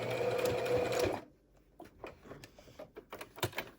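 A sewing machine stitches along the edge of a face mask in a short, loud, rapid burst lasting about a second, followed by faint clicks and handling noises.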